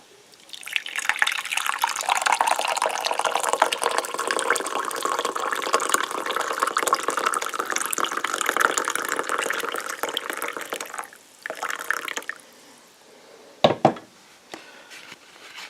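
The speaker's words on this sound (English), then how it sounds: "Then you just pour your coffee." Liquid pours steadily into a cup for about ten seconds, then trickles and drips, followed by a couple of light knocks.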